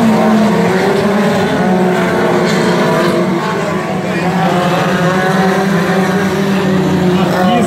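Race cars in the Light category run on the Barródromo de Jacaraípe dirt track, a loud, continuous engine drone with steady revving that holds throughout under excited commentary.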